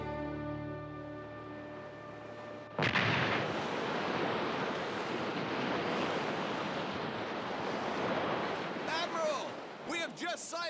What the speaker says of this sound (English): Go ahead and fire a cannon to announce the good news.